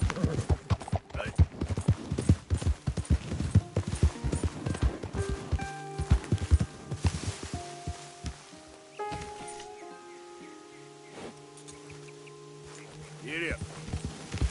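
Rapid clip-clop hoofbeats of a horse galloping in a PS4 video game, a steady rhythmic run that slows into quieter steps alongside game music and a voice.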